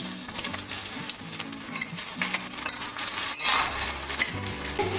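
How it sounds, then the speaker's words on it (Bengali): Onions tipped into hot oil already tempered with whole garam masala and dried red chillies sizzle loudly and steadily, with a brief surge of crackling midway and occasional stirring clinks from the pan. "ফোড়নে দিলাম গোটা গরম মশলা, শুকনো লঙ্কা, সুন্দর গন্ধ বেরোতে দিয়ে দিচ্ছি পেঁয়াজ"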